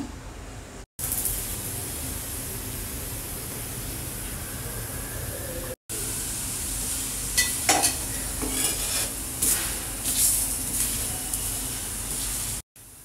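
Food roasts in a pan over a high flame, giving a continuous close sizzling hiss with occasional scraping and stirring clicks, broken by two brief cuts to silence.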